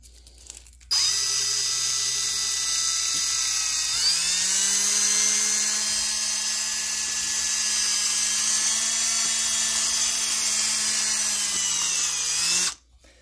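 A high-pitched rotary tool with a mandrel grinding the intake port of a piston-ported two-stroke cylinder, a close, steady whine held for about twelve seconds with slight pitch dips as it bites into the metal, starting and stopping abruptly.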